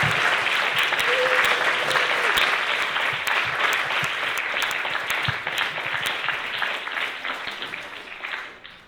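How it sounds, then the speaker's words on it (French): Sustained applause from a sizable crowd, dense and steady clapping that holds for several seconds before tapering off toward the end. "Donc je pense qu'on peut faire double ration d'applaudissements pour Marie, s'il vous plaît."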